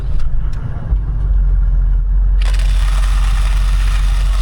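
A car engine idles with a low, steady rumble in the wild. Then an Outin Fino portable coffee grinder starts up with a bright, even whirring that continues over the engine.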